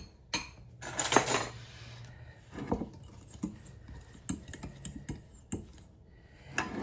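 A spoon scrapes and clinks against a bowl while ingredients are mixed, giving an irregular run of sharp taps and knocks close by, with a brief louder clatter near the start.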